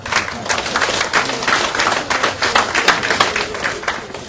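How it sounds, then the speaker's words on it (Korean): Steady applause from a room of party lawmakers at a general assembly meeting, many hands clapping densely and continuously for the whole stretch without a break. "여러분 저렇게 나와주시라고 박수 한번 보내주십시오."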